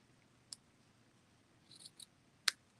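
Scissors snip paper during card making, a few quiet, sharp cuts spaced apart, with the last snip the loudest, in an otherwise quiet room.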